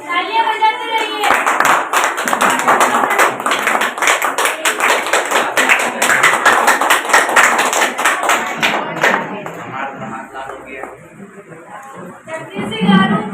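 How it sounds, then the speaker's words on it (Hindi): Audience clapping at a dance academy's awards ceremony for talented dancers and guests on Independence Day, a dense, steady burst of many hands that fades after several seconds, with a voice speaking near the end. "तालियां बजाते रहिए।"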